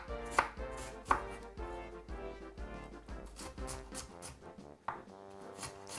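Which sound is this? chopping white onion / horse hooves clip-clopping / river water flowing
chopping white onion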